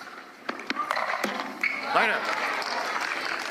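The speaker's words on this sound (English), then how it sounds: "he has set this crowd ablaze" Stadium crowd at a professional pickleball match, Ben Johns against Tyson McGuffin at the Atlanta Open, breaking into sustained applause and cheering, with a few sharp claps before the roar builds and holds at a steady level.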